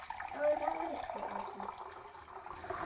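Water, about one and a half pints, poured into a pan of blackcurrants for homemade jam. It makes a soft, steady running splash close by for about three seconds.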